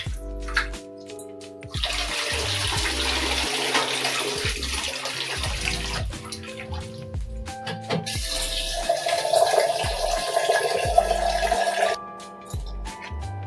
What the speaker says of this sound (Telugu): ఆ బాబుకి అయితే రైస్ అయితే కడిగి పెడుతున్నానండి